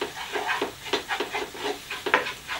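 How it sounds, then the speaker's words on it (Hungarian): About two teaspoons of flour toast in the middle of a pan, stirred with soft, rhythmic scraping strokes over a faint sizzle, close and quiet. "Mondjuk egy 2 teáskanál lisztet, és azt így megpirítom itt a közepén"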